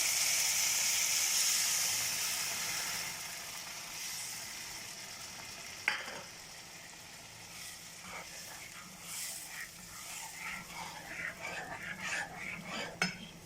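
Rasam mix poured into a hot pan of smashed tomatoes, starting with a loud hiss of steam that fades, then a bubbling sizzle with scattered pops and stirring noises.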